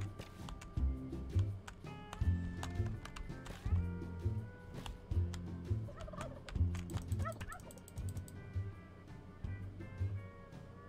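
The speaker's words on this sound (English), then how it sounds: "Why do these toucans sound like turkeys?" Toucans in a video game gobble exactly like turkeys, a steady run of warbling calls over busy game music and impact sounds that continue for the whole stretch.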